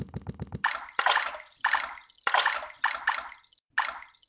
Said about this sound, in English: I heard water!